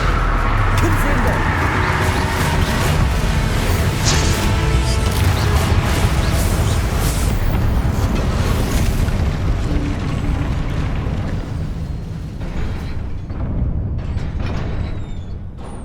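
Blasting-spell explosions in Hogwarts Legacy, heavy booming bursts and crashes rumbling loudly amid battle noise, easing toward a quieter tail.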